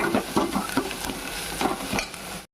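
Ginger garlic paste fries in a pan for a spicy chicken curry, giving a close, steady sizzle broken by rhythmic scraping stir strokes before cutting off abruptly.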